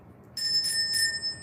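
A singing bowl struck twice, each strike giving a bright sustained ring with high overtones that linger and overlap, heard alone at moderate level with no talk.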